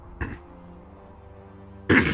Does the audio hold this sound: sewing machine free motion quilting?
no